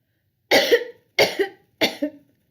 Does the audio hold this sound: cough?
yes